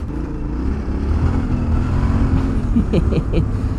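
A Yamaha Tenere 700 adventure motorcycle riding on gravel, its engine droning steadily close by and rising into a few throttle blips toward the end.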